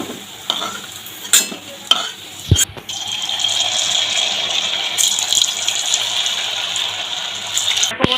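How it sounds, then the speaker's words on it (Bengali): Lentil fritters (bora) sizzle steadily in hot oil in a pan, a continuous bright frying hiss broken early on by a few clattering stirs and scoops before settling into an even sizzle. "তাই এবার বড়াগুলো তুলে নিয়ে বাকি কটা ভেজে নেব।"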